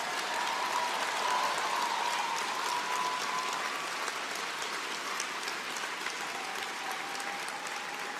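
A sustained round of applause for Karina and the House Leader's office team, dense, even clapping from a crowd that holds steady throughout at moderate distance.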